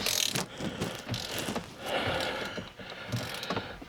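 Ratchet with an extension loosening a bolt on a 2005 Cadillac Escalade steering column, quiet clicking and mechanical rattles in short bursts, close up.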